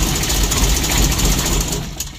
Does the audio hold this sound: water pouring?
no